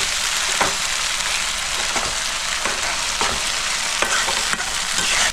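Chicken gizzards fry with ginger, garlic and chili paste, a loud continuous sizzle broken by regular spatula scrapes roughly every second, close to the pan.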